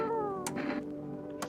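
A cat in a video game lets out a soft, drawn-out meow over a quiet background hum, with a couple of brief clicks around it.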